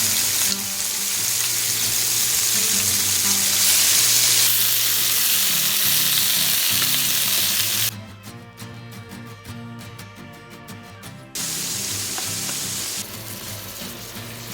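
Beef cubes fry over medium-low heat in a pan still flavored with garlic, giving a loud, steady sizzle that drops back briefly before returning to full strength.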